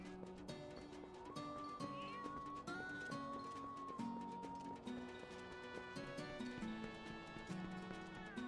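Cat meowing in the video game Twilight Princess, a few short mewing calls over continuous layered game music that stays fairly loud throughout.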